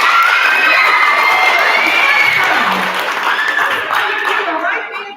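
Loud, sustained applause with cheering and children's shouts from a school audience at a read-aloud event at I.S. 59Q, a dense crowd roar that eases slightly toward the end.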